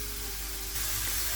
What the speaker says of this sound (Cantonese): 就首先將嗰個菇嘅香味煎翻出嚟先，就唔好落油住